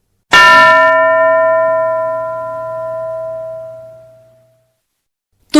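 One clear strike of a school bell in a classroom rings out loud and close, its pure metallic tone sustaining and slowly decaying over about four seconds before silence.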